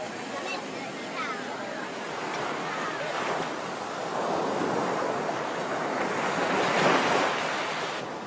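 Surf breaking on the beach at Banda Aceh, Indonesia, a steady broadband wash of waves with wind buffeting the microphone, swelling louder toward the end of the stretch.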